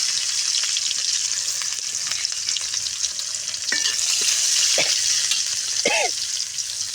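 Sliced onion and slit green chillies sizzling steadily in hot oil with dried red chilli and nigella seeds, a loud continuous hiss broken by light scrapes of the spatula, no talking.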